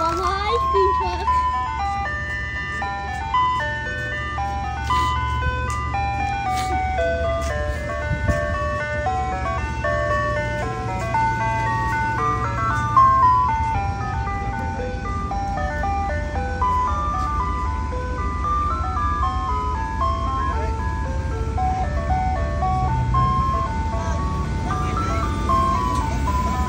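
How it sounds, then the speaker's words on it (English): An ice cream truck's jingle plays loud and close in a continuous tinkling melody over a low engine drone, with children's voices chattering faintly underneath. "we're buying ice cream from our ice cream truck."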